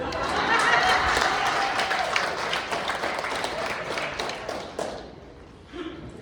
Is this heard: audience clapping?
yes